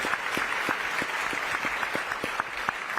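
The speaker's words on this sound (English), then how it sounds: "You should give yourself a round of applause" Steady applause from an audience at an opening reception and dinner, a dense wash of clapping with a few sharper hand claps standing out, held evenly throughout.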